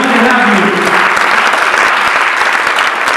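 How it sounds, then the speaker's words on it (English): Audience at a political forum in Greenfield applauding a state representative, steady dense clapping throughout at close range, loud and sustained with no talk over it. "Give yourself a round of applause, and also give your rep a round of applause."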